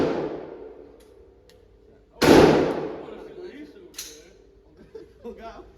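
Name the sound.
shotgun firing at a gun range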